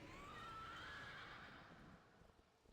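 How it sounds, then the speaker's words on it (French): A horse neighs in the video game World of Warcraft, one long, clear whinny that rises in pitch and then fades, followed by a few soft hoof clip-clops, with no talk. "Le cheval."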